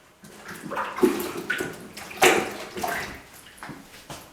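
Water washes steadily over a Mac Studio desktop computer, a continuous splashing and pouring wash with uneven surges, moderately loud and close, with no talk.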